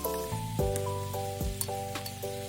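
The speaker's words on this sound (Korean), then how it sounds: "손질해둔 재료 넣어서 좀 더 볶아줄게요" Eggplant and prepared ingredients being stir-fried in a pan with tuna sauce and chili powder, a close, steady sizzle broken by several clinking tool strikes against the pan.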